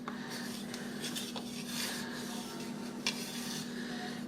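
A spatula slides under rolled pie crust dough on a work surface, making soft, close scraping and rubbing strokes over a steady low hum. Nobody speaks.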